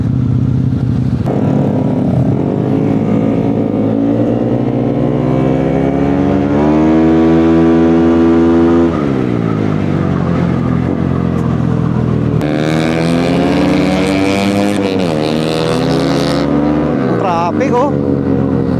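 Engines of cars and motorcycles in Pampanga street traffic hum and rev steadily throughout, loud and close, with shifting engine tones and a brief passing surge, while people talk over it.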